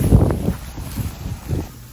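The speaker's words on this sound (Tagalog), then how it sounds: "Sobrang hangin." Strong wind buffeting the microphone outdoors, giving low, uneven gusty rumbles that rise and fall in short bursts across the brief stretch.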